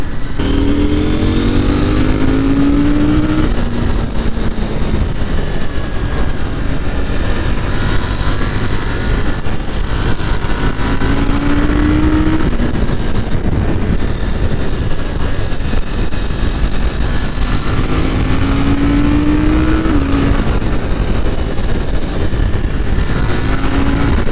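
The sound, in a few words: KTM 890 Duke R motorcycle riding in sports mode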